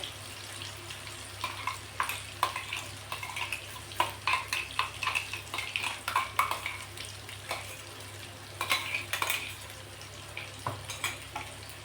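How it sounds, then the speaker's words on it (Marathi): Ground masala for a prawn curry fries in oil over a high flame, with repeated close scraping stirs over a steady sizzle and no talking. "हा मसाला आपल्याला चांगला तेल कुठेपर्यंत परतून घ्यायचा या तेलामध्ये"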